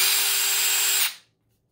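A DeWalt DCF601F2 cordless screwdriver runs at a steady high-pitched whir for about a second, then spins down and stops, close up with no talking.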